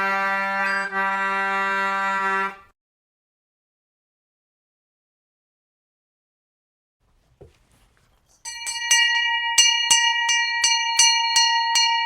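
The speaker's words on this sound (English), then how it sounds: "I love the bell." A bell rings with a sustained harmonic tone at the opening of a maritime radio show from Martha's Vineyard, Massachusetts, then silence falls before a second run of bright, repeated chiming strikes.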